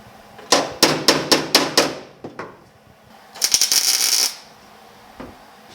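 Tack welding a seat skirt panel on a 1950 Chevy truck: a quick series of six sharp, evenly spaced crackling bursts, a couple of fainter pops, then a sustained hissing buzz of about a second before going quiet.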